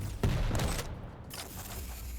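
Rocket launcher fire during a Quake duel match, a couple of loud, close blasts and bursts layered over busy game noise, without any talking.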